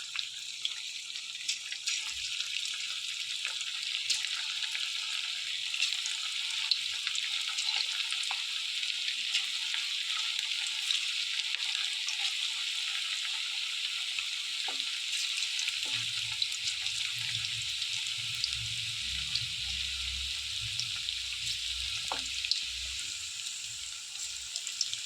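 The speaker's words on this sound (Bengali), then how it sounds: "ভেজে নেবো, এইভাবে সবগুলো ভেজে নিয়েছি।" Food frying in hot oil in a pan on a gas stove turned down low gives a steady, even sizzling hiss that runs unbroken throughout, with no talking.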